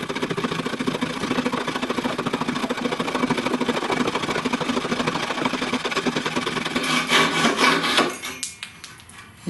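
A flush-cut saw trims a wooden board, rasping in a fast, steady back-and-forth rhythm of short pull strokes, close and loud, then slowing and breaking off near the end.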